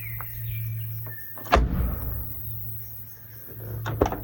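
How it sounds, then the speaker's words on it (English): A door is shut out in quiet bushland, giving one sharp thump that rings on with a short echo, then a second knock near the end, over a steady low hum, faint birds and flies. "listen to what happens if I shut my door"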